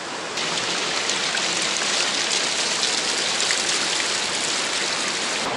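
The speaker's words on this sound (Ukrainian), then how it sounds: "Бурлить водичка." Water rushes and bubbles steadily at Düden waterfall in Antalya, a dense, loud, continuous gush close by with no talking.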